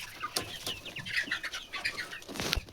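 Young native country chickens on a small farm cluck and chirp in a busy, overlapping chorus, moderately near, with a light flap of wings and no talking.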